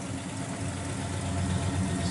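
A 1968 Pontiac GTO with a 400 four-barrel V8, dual exhaust and factory Ram Air exhaust manifolds idles steadily, a deep continuous rumble that grows slightly louder toward the end, with no voices over it.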